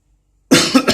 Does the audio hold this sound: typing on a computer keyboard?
no